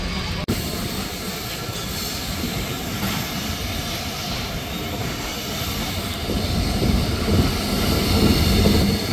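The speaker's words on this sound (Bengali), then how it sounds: "ট্রেনটি ছেড়ে যাচ্ছে চিরিরবন্দর রেলওয়ে স্টেশন।" Banglabandha Express train pulling out of Chirirbandar railway station, heard from on board as a continuous rumbling, hissing roll that grows slightly louder toward the end, with a single sharp knock near the start.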